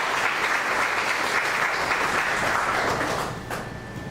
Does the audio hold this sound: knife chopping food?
no